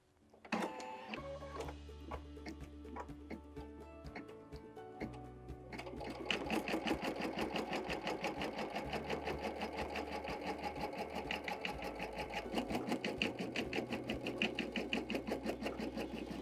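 An embroidery machine stitches a flamingo appliqué, starting with a few slower mechanical clicks and whirs, then settling after about six seconds into a fast, steady, rhythmic needle chatter, close and moderately loud.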